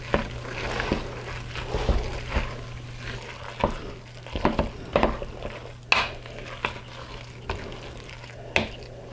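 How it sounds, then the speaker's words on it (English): A spoon stirs a low-carb stuffing batter with shredded mozzarella in a bowl, giving soft, irregular scraping and clinking strokes at close range over a steady low hum, with no talking. "I'm going to take my spoon and mix again."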